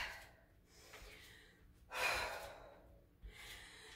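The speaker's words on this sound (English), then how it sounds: "Get those nice breaths, big breaths under control." Heavy breathing after a HIIT workout: a few loud gasping inhales and sighing exhales in uneven bursts, close and alone, with the biggest breath in the middle.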